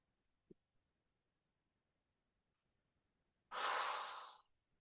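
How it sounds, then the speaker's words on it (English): Easy breathing during a Pilates stretch: one soft, breathy exhale of about a second, close and clear, after a long quiet stretch with a tiny click near the start. "Just easy breathing."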